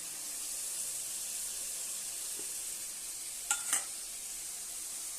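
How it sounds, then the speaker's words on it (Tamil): Curry with coconut paste and chili powder sautés in a pan with a steady, close, hissing sizzle, broken near the end by a couple of brief sharp clinks of a utensil against the pan, with no talking. "இதை ஒரு 2 நிமிஷம் வதக்குங்க."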